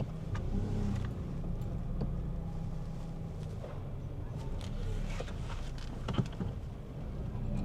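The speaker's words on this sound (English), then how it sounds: "Oh, there's a car coming again there." A car approaches and passes on a street in the Joe Slovo township of Cape Town, a steady low engine rumble swelling and fading over noisy outdoor background without speech.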